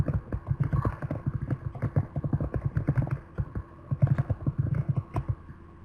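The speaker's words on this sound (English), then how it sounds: "We can hear you typing if you want to go ahead and respond." Rapid, uneven clicking of keys on a computer keyboard, close by, picked up by an open microphone during an online webinar, in bursts of typing with brief pauses, no voices.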